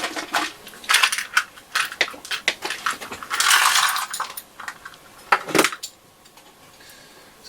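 Small screws and metal bits in a little pot rattle and clink up close as fingers rummage through them, with bursts of jangling and a longer scraping shuffle, then quiet; no talking.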